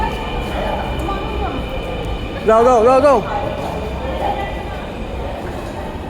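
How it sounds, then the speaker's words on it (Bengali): A train pulling into a station, with a steady rumble of rail noise throughout, while a loud voice urges people on over it. "ট্রেন আসছে"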